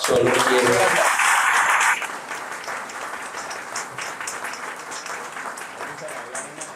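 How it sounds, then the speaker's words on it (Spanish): Audience at a lecture on Miguel de Cervantes bursting into loud applause that fades after two seconds into scattered, lighter clapping. "Aplauso."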